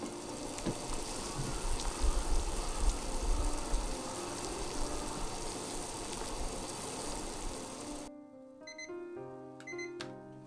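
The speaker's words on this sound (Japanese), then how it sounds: "沸騰したら金柑を入れて2分茹でます。" A pot of water boils hard on the stove with kumquats dropped in, a steady dense bubbling rumble for several seconds before cutting off, followed by a brief electronic timer-like beeping.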